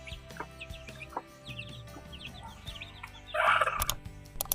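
A hen with her chicks, heard as soft repeated clucks mixed with high chick peeping, then a louder flurry of squawking and fluttering partway through, with no voices.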